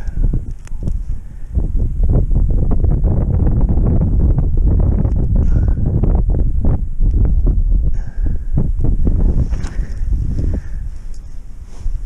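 Strong, frosty winter wind gusts buffet the microphone on ice during a fishing trip in Yakutia, with a rough, continuous rumble that swells and eases, alongside faint rustling.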